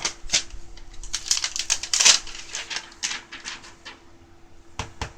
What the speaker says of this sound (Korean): 비닐을 벗겨서